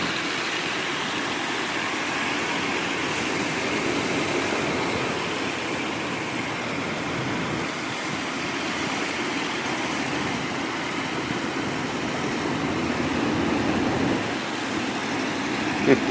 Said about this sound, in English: I hear another tractor behind me coming in.